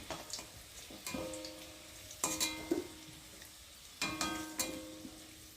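Potatoes frying in hot oil and being lifted out one by one, a soft sizzle beneath with a few clear metallic scrapes and clinks of a utensil against the pan, close and moderately loud.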